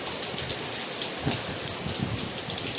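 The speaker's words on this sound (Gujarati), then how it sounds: "આમ જુઓ કેવો વરસાદ ચાલુ થઈ ગયો" Steady rain falling in Rajkot, India, a dense continuous patter of drops on surfaces, even and fairly close, with no voices.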